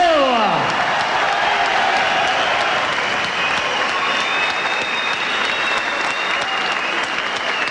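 A boxing crowd applauds a gallant losing boxer, Andy Till, at his home fight against Laurent Boudouani; steady, dense clapping and crowd noise fill the hall loudly throughout without letting up.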